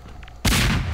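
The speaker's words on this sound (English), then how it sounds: "he's throwing grenades" A grenade goes off in a video game, one sudden loud blast that cuts in abruptly and then roars on through the rest of the moment, with no talking.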